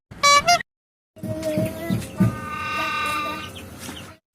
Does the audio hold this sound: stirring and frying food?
no